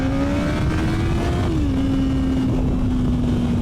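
A Kawasaki ZX14R motorcycle engine is given a light throttle blip while riding. The engine note rises and settles into a steady, close drone, with loud wind rush throughout.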